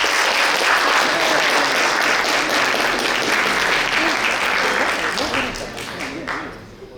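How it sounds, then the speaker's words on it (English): An audience at an investment forum gives a speaker a warm round of applause. The crowd claps loudly and steadily with some voices mixed in, then the sound thins and fades in the final seconds. "Let's give Ms. Alice a warm round of applause."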